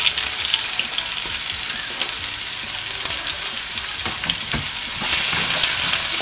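Onions frying in ghee and oil crackle and hiss loudly and steadily, with occasional scrapes of stirring and a surge of sizzle near the end.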